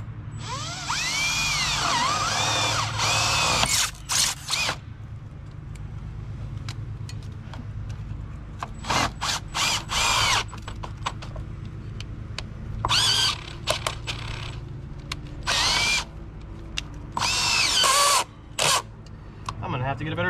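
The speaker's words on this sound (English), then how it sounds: "try drilling a hole here." A power drill bores a hole during an outdoor hot water faucet upgrade, sounding in several short whining bursts separated by pauses, with someone talking in between.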